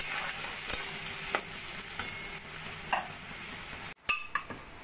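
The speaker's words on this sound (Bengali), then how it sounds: "পরিমাণ মতো নুন, হলুদ দিয়ে আরো কিছুক্ষণ আমি মশলাগুলো ভাজা ভাজা করে নেব।" Whole spices frying in a pan with salt and turmeric, a steady close sizzle with scattered stirring clicks and scrapes, dipping briefly near the end before resuming.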